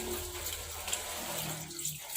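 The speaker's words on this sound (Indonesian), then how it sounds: "Lakukan cuci tangan dengan menggunakan sabun dan air mengalir." Hands washed with soap under running tap water, a steady continuous splash and hiss of flowing water close by with faint clinks.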